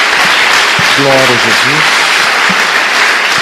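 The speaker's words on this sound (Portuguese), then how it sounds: "Dê uma salva de palmas a Jesus." A church congregation claps loudly and steadily during a sermon service, with a voice speaking briefly over the sustained applause.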